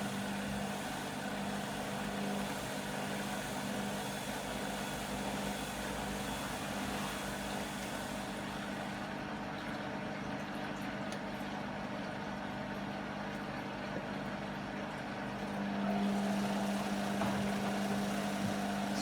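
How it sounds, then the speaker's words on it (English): A Beko WM5100W washing machine runs a test spin, giving a steady, continuous mechanical hum and drone with a low tonal whine that swells slightly louder near the end, with no talking over it. "you're just watching a washing machine going around"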